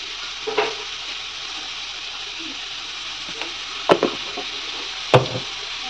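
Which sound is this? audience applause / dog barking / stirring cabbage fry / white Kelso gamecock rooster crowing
stirring cabbage fry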